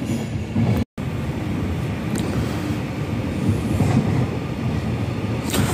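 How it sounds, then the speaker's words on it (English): A TransPennine Express unit, number 390154, bound for Preston, passes with a steady loud rumble and rail noise that holds for nearly six seconds with no voices. "TransPennine Express going to Preston."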